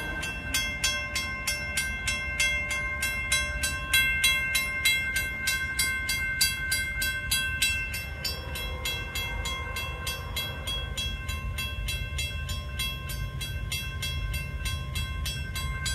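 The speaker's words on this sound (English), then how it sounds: "All right, the train is coming into sight right now." Union Pacific 8444 manifest freight train approaching a road crossing, with a steady loud rumble, rhythmic clicking of crossing bells throughout, and a horn-like tonal blast partway through, with no talking.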